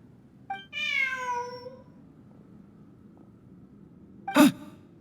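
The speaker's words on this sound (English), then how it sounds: "Look, a cat." A cat in Genshin Impact lets out one drawn-out, falling meow over a low background hum, followed a few seconds later by a short, sharp sneeze-like huff.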